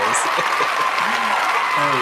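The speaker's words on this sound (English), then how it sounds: "Can you hear the applause?" Applause and cheering played as a sound effect form a steady wash of clapping, with someone talking over it.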